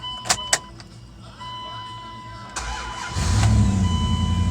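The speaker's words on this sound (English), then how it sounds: "I just finished the starter. Let's see if it starts." A Nissan Sentra with a newly replaced starter clicks a couple of times, the starter whirs, and the engine catches and settles into a steady, close idle that grows louder and fuller.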